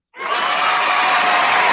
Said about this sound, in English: round of applause for Mo Makki and for Oplex